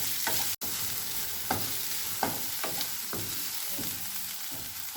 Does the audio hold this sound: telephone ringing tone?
no